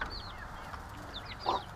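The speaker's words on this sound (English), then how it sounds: "These are our chickens." Chickens cluck softly inside a coop, giving a few short, faint calls over a hushed, hissy background with no talking.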